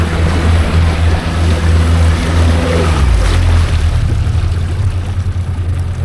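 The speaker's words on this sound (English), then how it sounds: "Engine's running." A boat engine runs steadily on the wide Orange River in Namibia, a loud continuous low drone with water and wind noise, its pitch shifting briefly midway as the boat gets underway.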